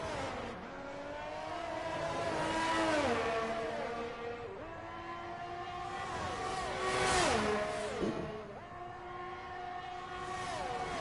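Several race cars battle closely on the Miami track, their engines droning loudly and continuously, rising in pitch and dropping with repeated gear shifts as they accelerate together.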